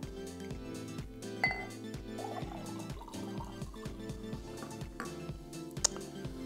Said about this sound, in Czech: Doleju to sodovkou ze SodaStreamu.